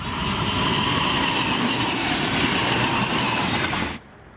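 Locomotives rumble past up close while climbing a hill, a loud steady roar with rhythmic clatter of wheels, cutting off abruptly near the end.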